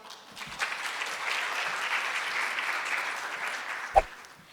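An audience at a Korean-language speech contest in Toronto welcomes a participant with steady, sustained applause, a dense even wash of clapping with a single sharp thump near the end before it fades.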